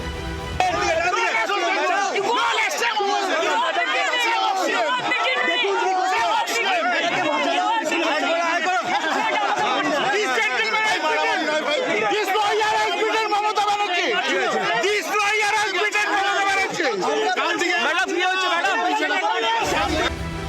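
A crowd of lawyers in a court compound chants and shouts slogans at Mamata Banerjee, a dense, loud, continuous babble of many voices throughout.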